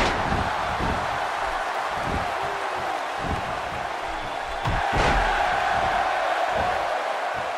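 Crowd noise at a SmackDown wrestling event in New Orleans: a steady, broad roar of a large arena audience with scattered shouts and a louder swell near the middle, continuous throughout.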